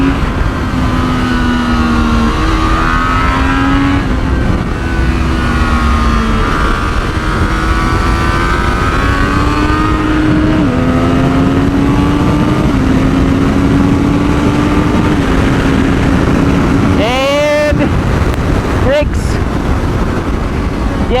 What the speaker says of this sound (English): the 3 to 2 gear change is a teensy bit rough on the auto blip, but it works pretty damn well otherwise